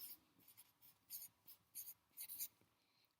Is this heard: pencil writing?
yes